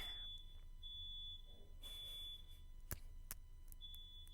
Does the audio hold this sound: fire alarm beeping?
yes